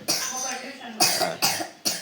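Four harsh, hoarse coughs, close and loud, spaced roughly half a second apart, the first one drawn out.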